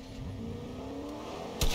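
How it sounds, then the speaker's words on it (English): Video game truck engine rumbling with a low, steady drone as it closes in, ending in a brief louder burst near the end. "Truck coming to me."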